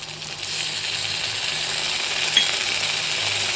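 Ginger-garlic paste dropped into a pan of fried onions sizzles with a steady, moderately loud broadband hiss that runs unbroken, with no talk over it.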